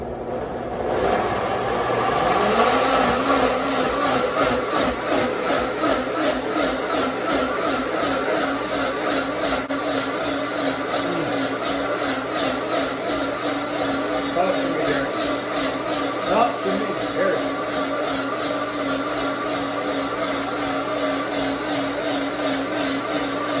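A kitchen blender whirs steadily for over twenty seconds as it purees a curry sauce made from scratch, a constant motor drone running close and loud throughout.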